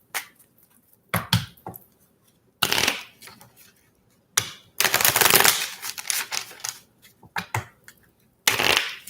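Tarot cards being shuffled and handled in several bursts of riffling and slapping, close and fairly loud, separated by short quiet gaps.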